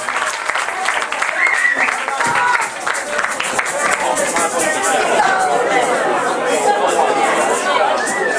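An audience at a Saturday night blues show at Corvo Torvo claps and cheers in sustained applause, with chatter and voices mixed into the crowd noise throughout.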